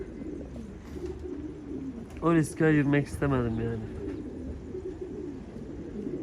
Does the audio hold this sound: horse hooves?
no